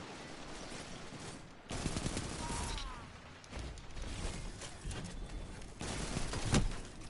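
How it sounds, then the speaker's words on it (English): Shotgun blasts ring out in a Destiny 2 multiplayer match, arriving as repeated loud bursts of gunfire mixed with other game sounds across several seconds. "Shotguns."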